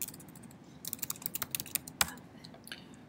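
Someone typing text on a computer keyboard, a quick irregular run of close, quiet key clicks with one sharper tap near the middle.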